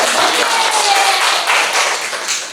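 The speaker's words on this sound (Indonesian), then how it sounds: "Boleh beri tepuk tangan yang meriah untuk Pak Rizal" An audience claps energetically for Pak Rizal, an English teacher, in a steady, dense wash of many hands that holds throughout and tapers slightly at the end.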